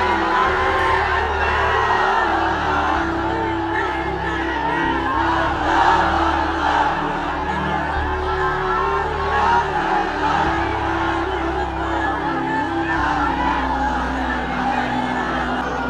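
A large gathering at a Bengali religious sermon gathering roars a takbir chant in unison, a loud, sustained wall of massed voices that swells and rolls continuously throughout.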